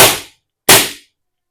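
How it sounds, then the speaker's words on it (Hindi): Legends C96 CO2 blowback pistol firing BBs, two sharp loud cracks with short decaying tails about two-thirds of a second apart, a third shot starting at the end. "आप इसकी आवाज सुन सकते हैं, बहुत पावरफुल है और फुल्ली ब्लो बैक है।"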